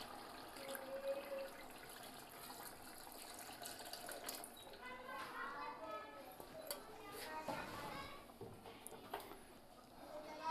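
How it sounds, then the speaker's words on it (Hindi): Water pours steadily into a large cooking pot while a traditional village sareed dish for 15 to 20 people is made, about 3 kg of fresh water going in as a continuous rushing splash with a voice talking over it. "तकरीबन 3 kg के लिए हमने मीठा पानी डाल दिया है"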